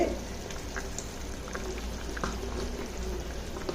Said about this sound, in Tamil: குழம்பு நல்லா சூப்பரா தர தரன்னு கொதிச்சுக்கிட்டு இருக்கு.